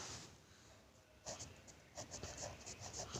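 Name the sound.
writing on paper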